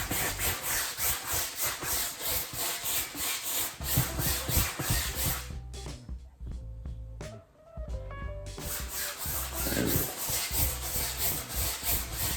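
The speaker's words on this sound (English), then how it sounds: "as you can hear, I'm scrubbing" A brush scrubbing thick oil paint into canvas for a wet-on-wet mountain landscape, rhythmic rasping back-and-forth strokes, close and loud, pausing for a couple of seconds before the scrubbing resumes.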